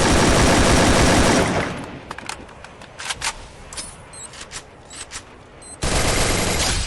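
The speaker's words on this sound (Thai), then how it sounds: "อ่าเห็นไหมทุกคนผมยิงทะลุต้นไม้" Rapid automatic gunfire in Garena Free Fire, a dense, loud burst of shots at the start and again at the end, with quieter scattered shots and clicks in between.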